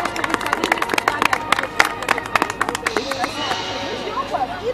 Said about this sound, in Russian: спасибо вам за поддержку, вам отдельные аплодисменты